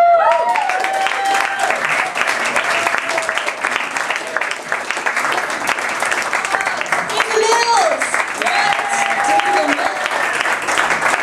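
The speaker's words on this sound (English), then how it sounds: "please give a big Bistrotheque round, warm round of applause to the lovely, the delicious Ms." Audience applause for a performer at a comedy event at Bistrotheque, London, steady and dense clapping from a crowd, with voices and cheers mixed in throughout.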